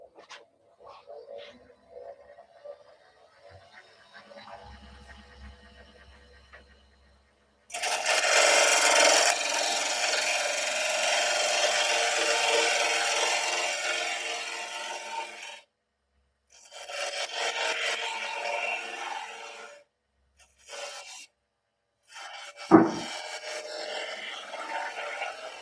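A spindle gouge cuts a tenon on wood turning on a lathe. Long steady hissing cutting passes, each lasting several seconds, stop and start with quiet gaps between them and a sharp knock near the end.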